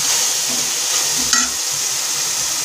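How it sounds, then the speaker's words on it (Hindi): Mixed vegetables fry in oil for vegetable pulao, a steady close sizzle with soft stirring scrapes of the spoon in the pan. "ये हमारी सब्जियां अच्छे से भुन चुकी हैं और इसमें ऑयल छोड़ना भी शुरू कर दिया है सब्जी ने"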